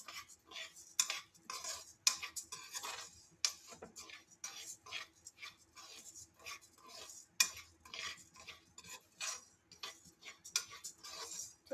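Moong dal powder is stirred and tossed in a dry pan with a spoon, making rapid, repeated scraping and clicking strokes in an uneven rhythm, close and fairly quiet.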